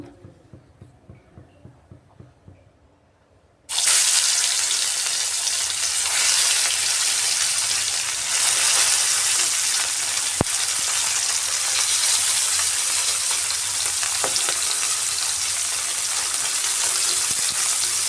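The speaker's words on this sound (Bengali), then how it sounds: "তেলটা গরম হয়ে যাওয়ার পর এর মধ্যে মাছগুলো ভেজে নেব।" Pieces of fish dropped into hot mustard oil burst into a loud, roaring sizzle after a few quiet seconds of light ticking, then crackle steadily and close up for the rest of the stretch.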